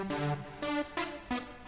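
Synthesizer tones play four sustained chord stabs with bright harmonic layers, each swelling then fading, the notes shifting in pitch, no voices.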